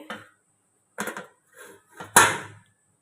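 A lid set over a pot of bread dough on a gas stove, heard as a few separate clatters and knocks of metal on metal, the last one loudest and ringing briefly, close by with no talking.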